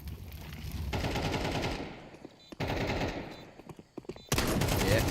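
Automatic rifle bursts and pistol shots ring out in a professional Counter-Strike esports match, in rapid, loud volleys broken by short pauses, with a final dense burst of fire.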